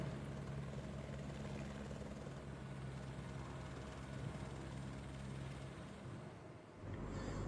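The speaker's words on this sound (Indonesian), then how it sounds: "Proses evakuasi pun harus dilakukan dengan menggunakan helikopter." An evacuation helicopter near Puncak Carstensz drones steadily with a dense, continuous rotor and engine rumble, then fades briefly near the end before swelling again.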